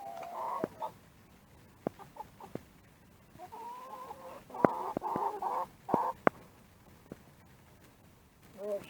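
Chickens cluck in a farmyard where a cat lives among them, giving a few scattered short calls and longer clucking runs at moderate volume over a quiet background.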